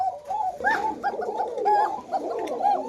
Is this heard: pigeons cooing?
yes